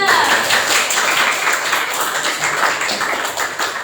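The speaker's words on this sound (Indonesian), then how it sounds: "Tepuk tangan untuk kelompok 3." A classroom applauds a student group after its presentation, a dense burst of many hands clapping close by that gradually thins out.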